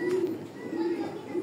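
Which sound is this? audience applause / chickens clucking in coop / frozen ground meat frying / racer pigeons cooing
racer pigeons cooing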